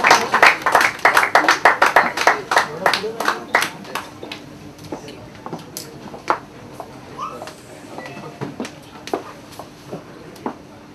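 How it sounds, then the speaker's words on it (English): Applause at a book launch: a burst of clapping from the gathered audience that starts strong and thins into scattered, fading claps over several seconds, with faint room murmur beneath. "A big round of applause for her"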